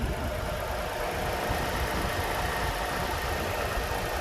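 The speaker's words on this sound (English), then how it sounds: "And this is the hybrid engine." The hybrid engine of a 2021 Chrysler Pacifica Pinnacle idles with an even, steady broadband hum, close and constant with no talking.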